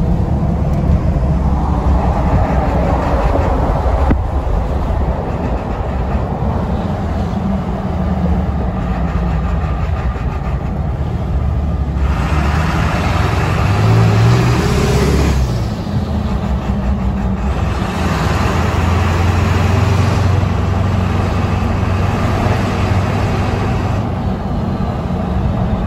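A Ford 7.3 diesel project truck fitted with a big S369 turbo pulls hard and steadily through its gears, with a loud continuous engine roar, brief dips at each shift and the engine climbing again, heard with the windows down.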